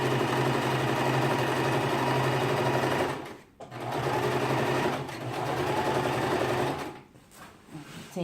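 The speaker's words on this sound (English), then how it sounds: "I'm going to do a stay stitch" A sewing machine stitches two pieces of fabric for a kaftan-style garment in fast, even bursts of rapid needle clatter, stopping briefly twice, with a quieter final pause; close and steady with no voices.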